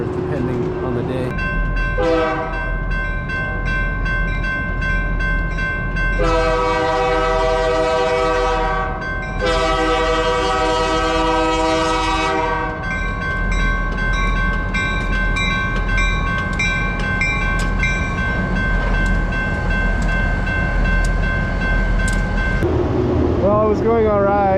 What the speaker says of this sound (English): there's a train that goes by every 3 or 4 hours